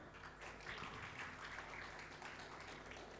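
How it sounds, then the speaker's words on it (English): Faint, steady applause from an audience, a dense wash of many hands clapping at a distance. "a huge round of applause for all our panelists."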